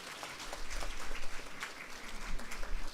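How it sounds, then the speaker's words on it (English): An audience at a graduation ceremony applauds the graduates, a steady wash of many hands clapping at moderate distance, fairly soft and continuous throughout. "I request the audience to please clap for them."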